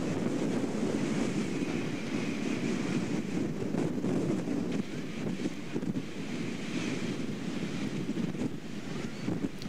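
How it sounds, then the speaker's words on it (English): Ocean waves and steady wind roar at the shore, a continuous loud wash of surf with gusty wind buffeting the microphone throughout, no voices present. "the sound of the waves and wind here was not originally"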